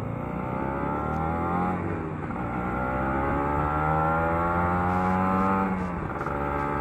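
A Kawasaki Ninja RR two-stroke motorcycle on a road test ride, its engine buzzing continuously and rising through the revs, with the rasping two-stroke note climbing and falling close by, no voices.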